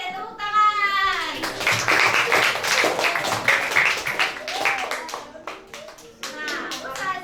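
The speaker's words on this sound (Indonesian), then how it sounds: "tepuk tangan" A group of children clapping their hands in a classroom lesson, quick sharp claps in a lively burst over several seconds, mixed with children's voices calling out and an adult voice at the start.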